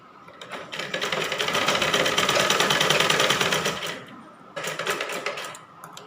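Sewing machine running steadily while stitching a sleeve onto a blouse, a loud continuous rapid whirring that stops briefly, then restarts for a shorter burst near the end.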